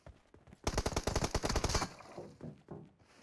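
Rapid automatic gunfire in the mobile battle royale game PUBG Mobile, a loud burst of about a dozen quick shots lasting just over a second, followed by fainter scattered shots and game sounds.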